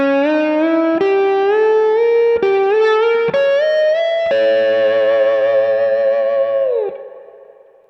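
Gliding slide guitar lick on a half-whole diminished scale, with sliding, stepping notes and heavy echo and effects, ringing out and fading at the end.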